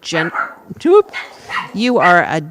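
Several dogs bark in short, loud bursts that pile up and overlap, with yips and a brief whimpering tone, up close in a room at the end of a church service prayer.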